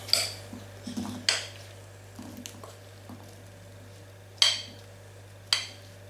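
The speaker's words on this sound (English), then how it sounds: "With our lid ready, just going to spoon in our apple mix." A metal spoon scoops apple filling into a gluten-free pastry case, giving soft wet squelches and a few sharp, close clinks against the dish, spaced irregularly and fairly quiet, with no talking.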